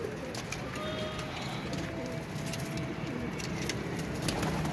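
Pigeons of a prized dabaaz pair coo softly amid a steady outdoor background hum and traffic-like noise, with faint low calls repeating across a few seconds and no talking.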